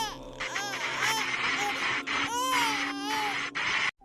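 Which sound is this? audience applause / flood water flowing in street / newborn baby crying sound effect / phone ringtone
newborn baby crying sound effect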